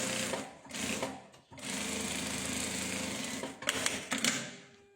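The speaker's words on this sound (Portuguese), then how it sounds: "Você vai arrematar e fazer a costura bater com costura." An industrial sewing machine runs fast through a jacket sleeve seam, a continuous whirring drone with short stops and restarts near the start and end, close-up and alone.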